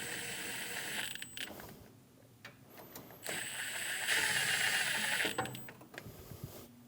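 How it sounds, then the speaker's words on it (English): Ratchet snugging down AC line bolts on a 2016 Scion iA during a condenser replacement, a series of close mechanical clicks and creaks in bursts with brief pauses between. "Snug the bolts down."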